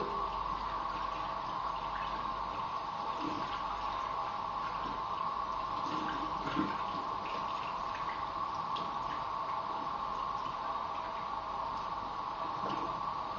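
Steady running water rinsing a hair prosthesis (hairpiece), a continuous even splashing hiss lasting throughout, close and moderately loud, with no voices.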